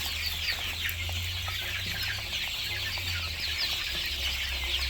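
Chickens cluck softly in a steady chorus, with a low hum underneath and no talking.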